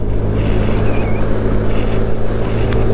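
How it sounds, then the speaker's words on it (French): A small scooter rides along in France with heavy wind buffeting the microphone, a loud, steady low rumble of engine and road noise under constant gusting, close and continuous. "Et gentil mon petit scooter, il m'amène de partout."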